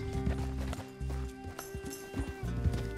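Rhythmic clip-clop of horse hooves in the video game Red Dead Redemption 2 over a steady droning background, with some soft thumps; the clopping is moderately loud and fairly close.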